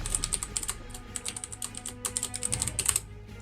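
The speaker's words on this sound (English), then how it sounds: "I was just typing in the chat" Rapid typing on a computer keyboard, bursts of sharp, close clicks with brief pauses between, fairly quiet with no talk.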